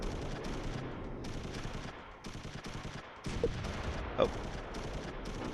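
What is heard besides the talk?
troops firing at a building in Close Combat III video game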